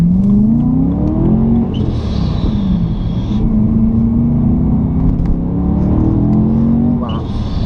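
Supercharged BMW M3 E92 with a stock clutch, heard loud and close from inside the car, its engine droning and rising through the gears with supercharger whine and brief pauses at shifts.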